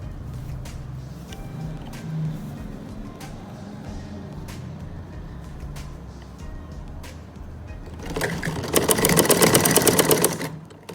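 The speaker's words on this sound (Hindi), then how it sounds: "मैं इलास्टिक पे सिलाई ला के मैं सिलाई जो है वो पक्की कर लूँगी।" Sewing machine stitching elastic onto the waistband of ladies' trousers: faint ticking and handling at first, then a loud, rapid run of stitching near the end.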